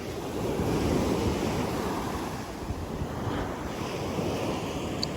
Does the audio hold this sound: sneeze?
no